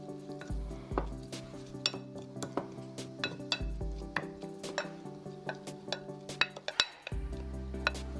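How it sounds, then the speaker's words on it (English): A utensil scraping and clinking in a pan while eggplant with roasted sesame seeds, salt and soy is stirred, giving irregular close taps and scrapes over a faint steady sizzle, with no talking. "let's stir."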